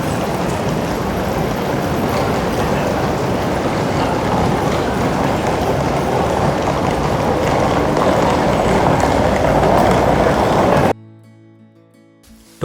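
Steady, loud, dense rumble and wash of noise inside Tokyo Station, Japan, a major hub for local trains, JR lines and Shinkansen. It runs unbroken for about eleven seconds, then drops abruptly to near quiet.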